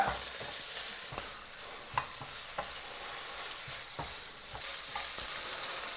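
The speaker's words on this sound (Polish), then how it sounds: "O, niech to nam się smaży." Chicken fillet seasoned with sweet paprika, salt and pepper frying in a pan, a steady soft sizzle punctuated by occasional stirring clicks and scrapes, with no talk.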